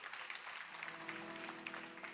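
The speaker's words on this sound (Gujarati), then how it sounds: "એમને જોરદાર તાળીઓથી વધાવો." An audience in a hall applauding at a Ganesh Vandana event in Kasbapar, Navsari, a steady patter of many hands clapping at a moderate distance throughout.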